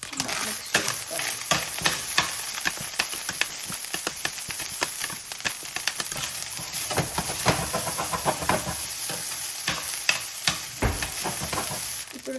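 Egg fried rice sizzles and hisses loudly in a hot pan while a utensil scrapes and stirs it in quick, steady strokes, close and continuous.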